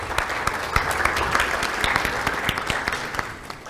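An audience applauds at a panel discussion on AI and fraud detection as a panelist walks on stage; steady, dense clapping from a sizeable crowd fills the room with a few sharper individual claps standing out.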